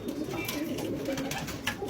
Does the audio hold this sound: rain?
no